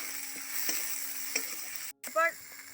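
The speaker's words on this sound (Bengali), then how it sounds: "গরম তেলের মধ্যে পেঁয়াজ কুচিগুলো দিয়ে দিলাম, কাঁচা লঙ্কা কুচি দিয়ে একটু নাড়িয়ে নেব।" Chopped onions and green chillies fry in hot oil, a steady close sizzle broken by a few soft stirring scrapes, a brief dropout, then a louder clattering stir near the end.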